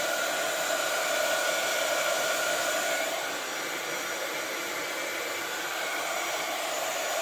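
Heat tool blowing hot air to dry hot glue on a waxed cardboard gift box, a continuous, even hiss-roar like a hair dryer that holds steady and eases slightly partway through, with no talking.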